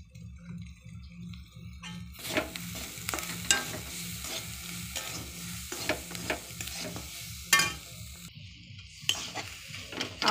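Curry leaves hit hot oil in a pan for masala dosa filling. After a quiet opening comes a close, crackling sizzle broken by repeated stirring scrapes and clicks.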